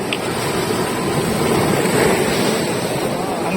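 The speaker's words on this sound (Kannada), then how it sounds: "ಅಲೆಗಳು ಸಿಕ್ಕಾಪಡೆ ಫೋರ್ಸ್ ಇದೆ," Strong ocean waves surge and break on the rocky shore at Kodi Beach, Udupi, a steady, loud wash of surf with wind noise across the microphone and no pause throughout.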